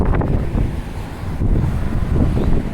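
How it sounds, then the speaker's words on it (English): Strong wind buffets the microphone outdoors on a city street near the waterfront, a loud rumbling roar that surges and eases in gusts throughout, with no flapping clearly standing apart. "it's really windy out here"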